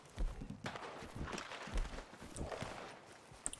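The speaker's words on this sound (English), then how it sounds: "I hear a horse" Horse hooves in the video game Red Dead Redemption 2, faint and distant: a few soft, uneven thuds of a horse moving on the ground, with no voices.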